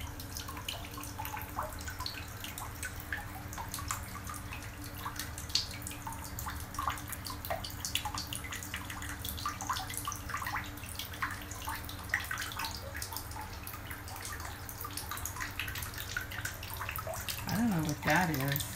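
Water in a bathtub gives a steady wash and faint drips, a continuous low sloshing bed that runs quietly throughout.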